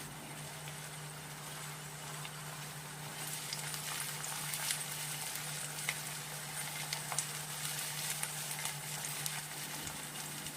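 Finely chopped onions softening in a pan for a spicy prawn fry with raw mango, a steady soft sizzle that grows louder partway through, with no talking.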